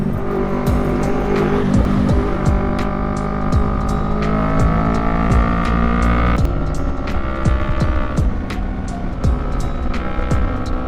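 A loud engine revs hard and steadily, rising and falling in pitch with sharp gear-change jumps, close up and continuous.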